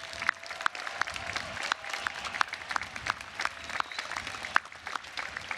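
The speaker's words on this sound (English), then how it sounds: "please recognize with a big round of applause the support and dedication of your faculty" An audience at a Cal Poly College of Engineering commencement claps in recognition of the faculty. The applause is moderate and steady, with sharp individual claps standing out from the crowd.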